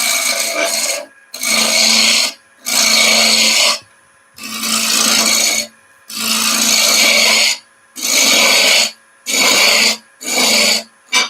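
Wooden spindle turned on a lathe while a wooden spatula handle is shaped, giving repeated loud bursts of rasping, scraping tool contact, each lasting about a second or so, separated by short quiet gaps.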